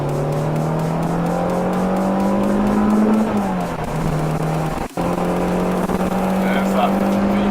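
A 2004 Renault Clio 182 hot hatch engine drones steadily from inside the car while driving, its note rising and then dipping slightly as the revs change, with a brief knock partway through.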